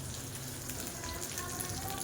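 Slices of pointed gourd fry in a pan with a steady, dense sizzle and crackle that runs unbroken and fairly close throughout.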